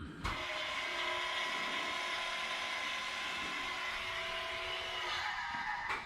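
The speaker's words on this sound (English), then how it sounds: "we're gonna do a cold start" Cold start of a car engine with the exhaust cutout open, a loud, steady, raspy drone that fills the whole stretch close to the microphone, with a brief drop at the very end.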